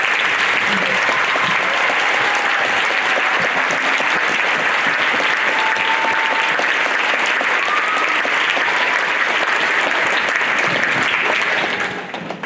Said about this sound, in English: We get another round of applause